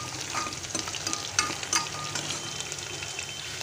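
Onions and peanuts frying together in a pan for masale bhat give a steady, close sizzling hiss, with a couple of brief louder stirring clinks partway through.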